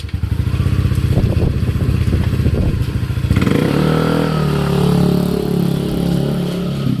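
A Yamaha NMAX scooter engine idles with a fast chugging putter, then revs up into a smoother, louder hum as it pulls away.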